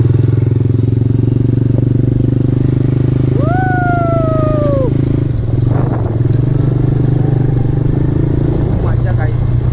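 A vehicle with reverse gear idles at a farmhouse, its engine giving a loud, steady, close low drone throughout, with a brief rising-falling tonal whine partway through.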